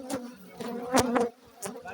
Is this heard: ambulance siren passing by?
no